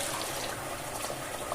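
Cold tap water runs steadily into a sink, rinsing a small dollop of homemade laundry gel, a constant close splashing hiss with no talk.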